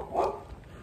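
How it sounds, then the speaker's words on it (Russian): A small dog gives a single short, faint yelp-like bark from a distance outdoors in a small Spanish castle town. "собачка закричала"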